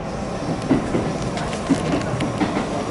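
Interior rumble of a running JR West 323 series electric train on the Osaka Loop Line, with rhythmic wheel clacks over rail joints, steady and close, with no talking.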